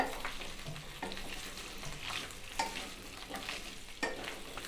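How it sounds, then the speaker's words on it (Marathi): Okra stir-frying in hot oil, stirred continuously, with a steady close sizzle broken by scraping stirs and occasional spatula knocks against the pan. "तर भेंडी आपल्याला सतत हलवत छान अशी परतून घ्यायचे तेलावरतीच"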